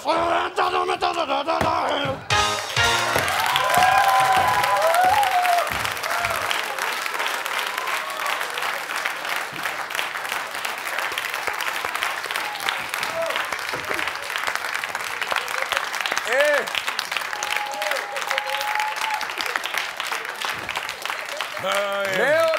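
A studio audience at a Georgian comedy game show breaks into loud, sustained applause, with cheering and shouted voices riding over the clapping throughout, after a brief quieter moment at the start.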